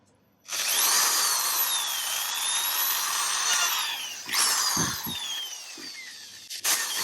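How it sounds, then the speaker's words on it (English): A power drill whines loudly and steadily, its pitch sliding as it bores holes through plastic, then stops briefly before short bursts and a final quick spin. "Find the hole and just drill."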